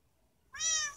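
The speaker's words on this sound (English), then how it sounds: "A new kitty!" A single short, clear cat meow from a Minecraft cat, heard alone against near silence.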